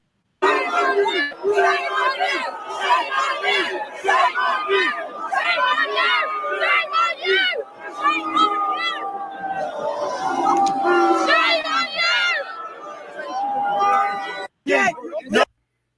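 A crowd chattering, a close, dense babble of many overlapping voices running almost continuously, then briefly cut off near the end.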